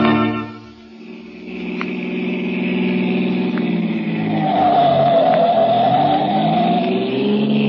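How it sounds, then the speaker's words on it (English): In an old-time radio drama sound effect, a car drives fast, its engine droning and rising in a sustained revving whine with a muffled, narrowband quality, loud and continuous without speech. "The car's going as fast as it can, Lamont"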